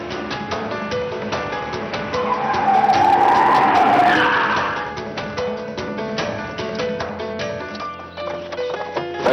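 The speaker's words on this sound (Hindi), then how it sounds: "ईशान, आराम से चलाओ यार" A car driven fast skids with a long squeal of tires that peaks in the middle, over steady engine noise and a rhythmic background beat, loud and close, in a TV drama scene.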